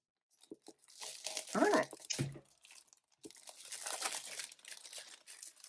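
A sketchbook's plastic packaging being cut open and unwrapped: brief crinkles, a sharp tearing rip, then a longer stretch of soft crumpling, close and quiet, with a short spoken remark.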